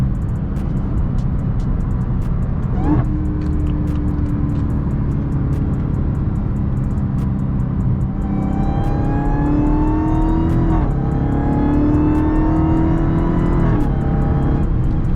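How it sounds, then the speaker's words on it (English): A Hellcat Widebody engine revs hard inside the cabin, the pitch climbing and then dropping sharply as it shifts down several times, loud and continuous. "Oh my God, them downshifts are crazy, bro."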